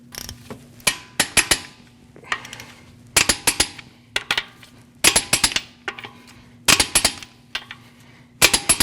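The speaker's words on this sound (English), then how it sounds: "we're going to torque these at 100 foot-pounds in a crisscross manner." A torque wrench tightening lug nuts on a Jeep Cherokee wheel gives short clusters of sharp metallic clicks, repeated in bursts several times with quiet gaps, close and crisp.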